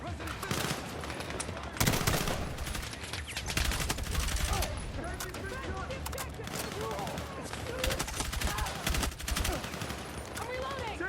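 Battlefield 6 combat erupts at a fire station: dense bursts of automatic gunfire and rapid shots pound on and off throughout, loud and close, with shouted voices mixed in under the barrage.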